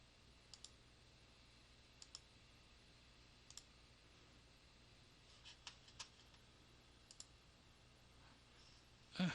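A computer mouse clicks during a turn of a Civil War strategy wargame, faint sharp clicks in small pairs and clusters spread over about nine seconds of quiet room tone.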